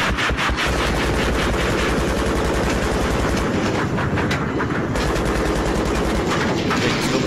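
Sustained rapid machine-gun fire from a helicopter in Battlefield 3, loud and continuous with a dense rattling rhythm throughout, one brief dip in the low rumble midway.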